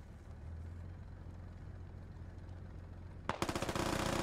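Video game gunfire from a tactical squad shooter: a low vehicle-like engine drone hums for several seconds, then a sudden close, loud burst of rapid automatic fire rattles out in quick repeated shots.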